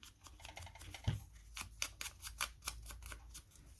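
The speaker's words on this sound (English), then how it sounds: "we're going to trim this right here" Scissors snipping through premade paper ephemera for a nature journal, a series of crisp close cuts in quick irregular rhythm with one louder snip early on, no talking.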